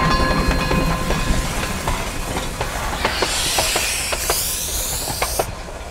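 A K-36 steam locomotive on the Durango & Silverton narrow gauge railroad in winter: a close, loud rumble of wheels with sharp rail clicks, then a strong rising hiss of steam near the end.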